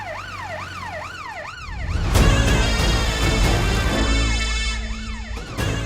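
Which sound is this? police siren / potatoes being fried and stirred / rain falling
police siren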